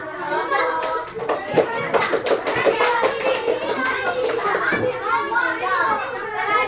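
Schoolchildren in a classroom clapping together, a loud burst of many small hands at the start thinning into scattered claps amid lively children's chatter.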